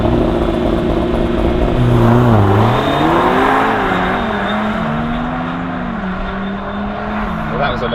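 An Audi RS 3 and an AMG A45 S accelerating hard side by side in a drag race, a loud, steady engine roar with rising and shifting pitch as they pull away, heard close.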